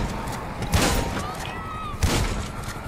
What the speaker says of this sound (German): Geben Schüsse auf die Reifen ab.